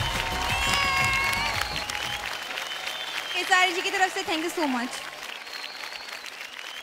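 Applause fills the hall at a Bhojpuri international award show, clapping and crowd noise strongest at the start and then thinning out, with someone speaking over it and tonal music or voices rising midway.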